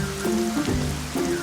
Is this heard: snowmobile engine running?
no